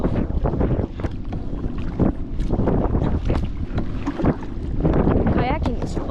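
A kayak moves on a lake during a fishing trip, with splashing water and paddle strokes under heavy wind buffeting the microphone throughout.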